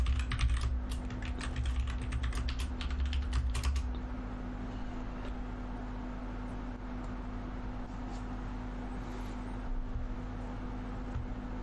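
A password is tapped out on a computer keyboard in a quick burst of close, crisp keystrokes over the first few seconds, then the keys fall quiet, leaving a low steady hum in the background.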